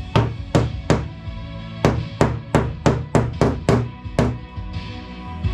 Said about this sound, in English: Kinda gotta hammer the whole thing out and then push the excess back in